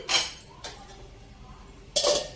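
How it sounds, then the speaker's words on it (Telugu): A lid is set down on a pot of vegetable upma, making a near metallic clank at the start and another near the end, with quieter clinks of pot and utensil in between. "ఇప్పుడు మూత పెట్టేసి"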